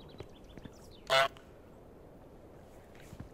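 A duck inside a restaurant gives a single loud, short nasal quack that stands out sharply against a quiet background murmur of faint clicks and movement.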